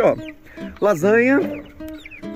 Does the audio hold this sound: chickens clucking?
yes